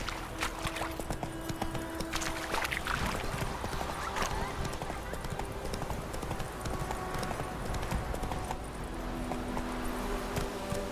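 A horse gallops in The Witcher 3 game, hooves clip-clopping in a steady rapid rhythm throughout, fairly close, with occasional faint whinnying and no talk.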